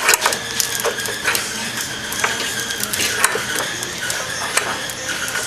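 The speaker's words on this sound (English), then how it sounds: "Alright, we just got all the clamps on." Clamps ratcheting tight on a curved wooden board in a press, a dense, loud run of clicking and mechanical rattles with repeated sharp ratchet bursts.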